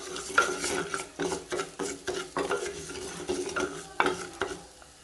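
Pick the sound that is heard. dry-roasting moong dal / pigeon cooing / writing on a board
dry-roasting moong dal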